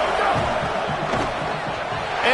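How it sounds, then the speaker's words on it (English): A home crowd at a football game roaring after a defensive stop near the goal line, a dense, sustained wall of cheering and shouting with a broadcast voice faintly mixed in. "how nice is it to have the home crowd going absolutely bananas?"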